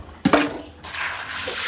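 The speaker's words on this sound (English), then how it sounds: "We wash our beans." Beans being washed in water while cooking cassava in a Rwandan village: a splashy slosh of water and beans near the mic, then a softer swishing rinse continuing under the background hiss.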